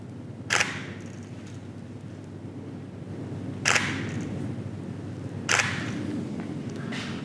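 A camera shutter fires with two off-camera flashes set to the same 1/16 power, giving three sharp, separate clicks spaced a few seconds apart over a low steady room hum.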